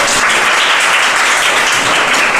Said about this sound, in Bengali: এটা জোরে হাততালি ওদের জন্য।